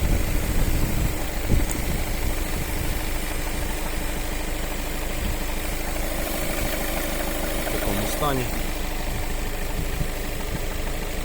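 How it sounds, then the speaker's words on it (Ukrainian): A 2014 Skoda Octavia A7 1.6 TDI diesel engine idles steadily with an even, low rumble, and a person briefly says a few words over it. "Двигун працює рівненько тихенько."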